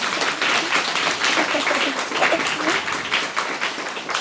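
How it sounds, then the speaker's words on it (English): An audience at a book launch applauds steadily, dense clapping from many hands filling the room, loud and continuous throughout. "please, round of applause"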